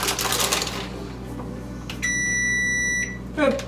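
A kitchen oven beeps to signal it has finished preheating. One steady electronic tone lasts about a second against a faint background hum, and a brief clatter follows.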